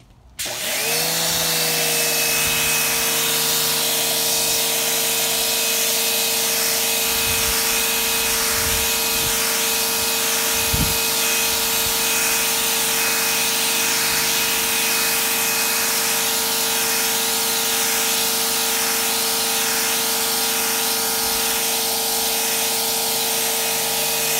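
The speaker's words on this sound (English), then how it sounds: "since everybody wants to see a power washer in action, here we go" Pressure washer cleaning a concrete sidewalk runs steadily throughout, a loud continuous motor whine with sustained hiss and spray noise, broken briefly by a sharp knock near the middle.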